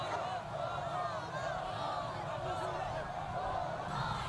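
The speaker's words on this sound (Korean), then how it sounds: "군중들은 조국 통일, 평화, 번영이라고 외치고 공화국기와 통일기, 꽃다발을 흔들며 열광적인 환호를 올렸습니다" A dense street crowd in North Korea cheers and shouts along the roadside, a continuous roar of many voices heard from a distance with no break.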